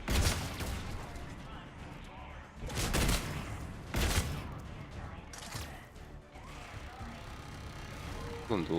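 Mass Effect 3 combat with an enemy turret firing, loud bursts of gunfire and impacts recurring in waves, with a voice talking in between and over the shooting.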